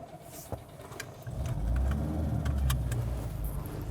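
A Citroën car engine turns over and catches at about 1.2 seconds, settling into a steady low idle rumble with some faint clicks and rattles before it, heard alone with no talk.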